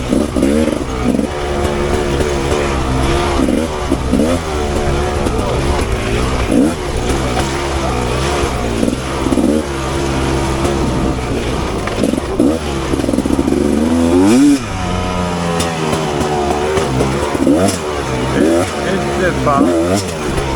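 A Rieju Ranger 300 dirt bike fitted with an FMF Gnarly exhaust runs loud and close on a trail ride, its engine revving up and down through gear changes with bursts of acceleration, and a rider talks over it at times.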